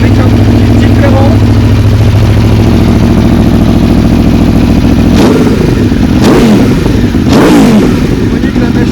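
An Aprilia Tuono Factory motorcycle fitted with a new Akrapovic exhaust idles loud and close with a deep steady rumble, then is revved in three sharp blips toward the end.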